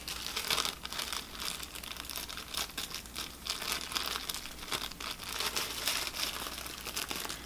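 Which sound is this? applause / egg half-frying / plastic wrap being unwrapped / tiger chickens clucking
plastic wrap being unwrapped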